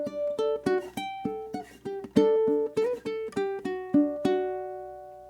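A ukulele plucks the opening bars of a bass solo, a quick string of single notes with some rapid runs, close and bright, ending on a sustained ringing note.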